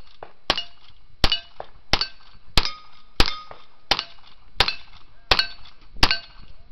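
A shotgun is fired gunfighter style at a Comancheria Days cowboy action shooting match, with about eight evenly spaced sharp shots, each followed by bright ringing metallic clangs from steel targets, close and with no speech.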